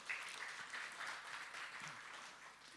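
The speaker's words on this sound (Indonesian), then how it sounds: "Tepuk tangan dong, ke depan dulu." An audience at an HR talk event in Jakarta applauds as a guest is invited forward, a faint, distant patter of clapping that thins out toward the end.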